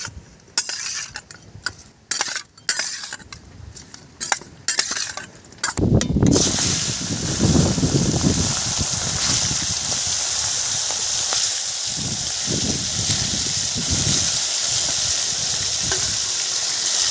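Kuche fish (eel) frying in hot oil in a pan, a loud, continuous close sizzle and hiss that erupts after several seconds of sharp clattering and tapping, then bubbles and spits steadily to the end.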